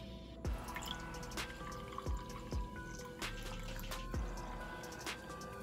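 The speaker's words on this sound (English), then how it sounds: "you just slowly pour, so that way you don't get that in your actual coffee" Cold brew coffee is poured slowly into a glass, giving sparse, soft drips and small trickles, with quiet gaps between them and no talking.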